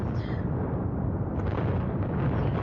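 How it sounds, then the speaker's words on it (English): A controlled explosive demolition brings down four 44-storey towers together. It sounds as a loud, sustained deep roar and rumble that fills the whole span without pause. "This is a controlled explosion"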